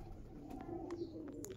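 Young Andhra Rablook pigeons in a loft give soft, low, continuous cooing close by, with faint rustling and no talk.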